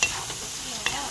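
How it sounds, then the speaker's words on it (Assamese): Spices such as turmeric and red chili frying in a pan for a chicken dish, a brief steady sizzle with two soft scrapes of stirring. "মছলাখিনি ভাজি লৈছোঁ"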